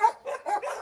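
A German Rottweiler barks four times in quick succession, loud and close, each bark short and sharp with a slightly whining edge, with no one talking.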